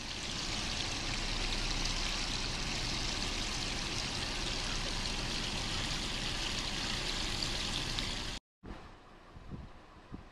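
Water in a creek rushes and gurgles steadily nearby, a constant full flow that cuts off abruptly near the end, leaving quieter outdoor sound.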